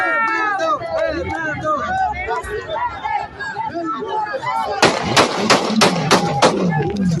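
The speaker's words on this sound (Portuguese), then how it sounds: "Foram 5 tiros." After a stretch of talking voices, a rapid burst of about five sharp, loud gunshots rings out in close succession.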